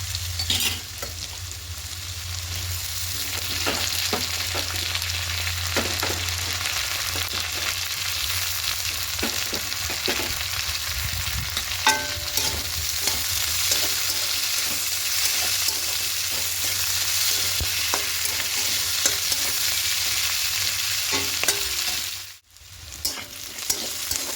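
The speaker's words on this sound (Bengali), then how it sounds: "ঠিক যখন আলুটা এরকম ভাজা ভাজা হয়ে আসছে দেখে নেব, হ্যাঁ আলুটা সেদ্ধ হয়ে গেছে। এই সময় পেঁয়াজ কলিগুলো দিতে হবে।" Potatoes and onion stalks fry in a pan with a constant close sizzle and frequent stirring scrapes that carry on steadily, dropping out briefly near the end, with no speech.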